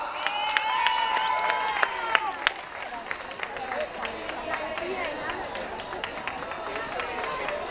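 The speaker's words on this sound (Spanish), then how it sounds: "Un fuerte aplauso, por favor, a estas niñas tan guapas." Outdoor crowd at a village verbena festival pageant in Fuente Nueva claps and cheers for girls presenting on stage, a steady spread of applause with scattered whistles and shouts, voices chattering throughout.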